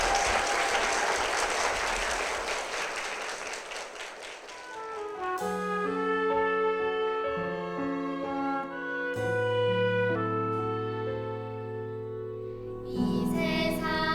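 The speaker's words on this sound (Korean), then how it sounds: "여러분 힘찬 축복의 박수 부탁드립니다" A church congregation applauds warmly for a deaconess and her son after their testimony, a dense, steady clapping that runs for about five seconds before sustained music takes over.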